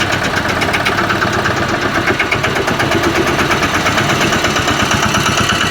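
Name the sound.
Sanedo mini tractor engine running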